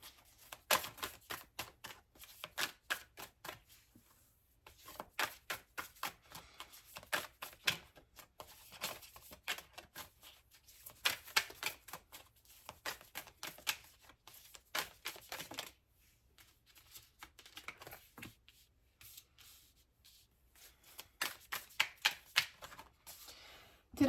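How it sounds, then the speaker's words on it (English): Tarot cards are shuffled by hand in repeated bursts of soft, rapid riffling and tapping, separated by short quiet pauses, close and fairly faint. "I just want to shuffle one more time."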